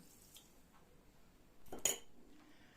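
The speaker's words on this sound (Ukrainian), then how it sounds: "Потім повна ложка така солі." A spoonful of salt tipped into a jar or pot while making canned sweet peppers, heard as a short clink and rattle near the middle, fairly close and quiet, with no talking.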